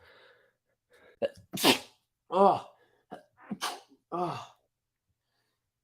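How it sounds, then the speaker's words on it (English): A forceful sneeze with a sharp intake of breath, followed by voiced gasps and another sneeze, close and loud, with a brief exclamation. "I'm about to sneeze."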